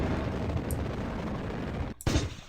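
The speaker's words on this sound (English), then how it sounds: "Explosions." Video game explosions in Kerbal Space Program during a Duna mission, a dense rumbling roar of blasts and debris that drops out briefly, then a fresh loud burst erupts near the end.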